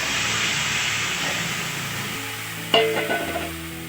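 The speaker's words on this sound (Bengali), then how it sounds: "এবারে আমি এর মধ্যে ঝোলটা ঢেলে দিলাম।" Gravy poured into a frying tomato masala: a broad sizzling hiss fades a little, then a sudden sharp splash and hissing burst flares up and settles.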